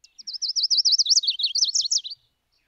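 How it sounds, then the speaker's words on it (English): A warbler sings a rapid, high trill of repeated sweeping notes for about two seconds, clear and close, then stops into silence. "the majority of warblers sound like they are warbling"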